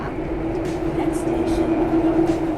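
Inside an MRT metro train travelling from Bang Wa toward Bang Sue station, a steady loud interior rumble carries a constant motor hum, with faint rattles over the continuous roar.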